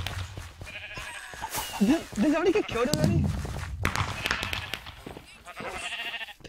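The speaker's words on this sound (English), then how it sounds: "we're gonna go around and we're gonna explode sheep everywhere" Sheep bleat in a Minecraft Hypixel minigame, a run of short wavering bleats in the middle amid footsteps and game effects, with players talking over it.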